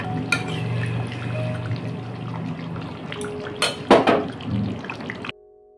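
A spoon stirring chicken curry with taro in a metal pot, with scraping and clinking strokes over a steady cooking murmur, ending in a few louder clanks.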